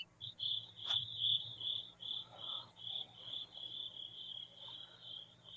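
Crickets chirp in a steady pulsing trill that runs through the whole stretch, fairly close and clear over a quiet background with no talking.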